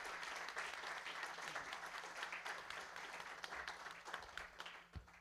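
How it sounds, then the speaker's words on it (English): A conference audience at an election integrity summit gives a sustained round of applause, dense clapping that swells and fades slightly before a single sharp thud near the end. "Let's give them a strong round of applause."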